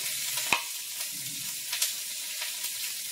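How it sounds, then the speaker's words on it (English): Vegetables sizzle in a hot wok during a stir-fry, a soft steady hiss with a few sharper crackles and pops, heard fairly faintly and alone. "That's the veggies in the wok."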